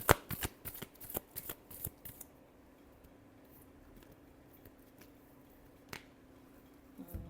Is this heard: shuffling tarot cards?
yes